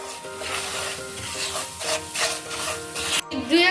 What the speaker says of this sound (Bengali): এর সাথে সুজি খুব ভালো করে ভেজে নেব।